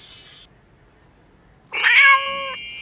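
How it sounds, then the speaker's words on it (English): A cat meows once, loud and close, a clear drawn-out call after a short quiet pause, with no talking. "C is for cat."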